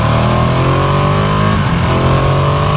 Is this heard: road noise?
yes